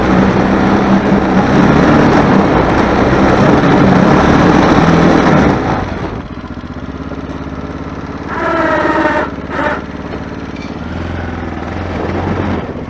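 A 250 quad ATV plowing snow, its engine roaring loud and close, then easing to a lower steady idle-like drone with a brief rising rev midway.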